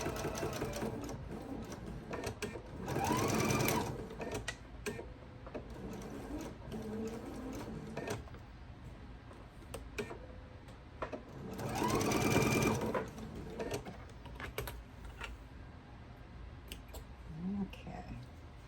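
A sewing machine stitches quilt block pieces at a scant quarter-inch seam, a steady close whir running nearly throughout, with two louder, faster bursts when the pedal is pressed harder.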